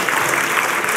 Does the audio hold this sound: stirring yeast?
no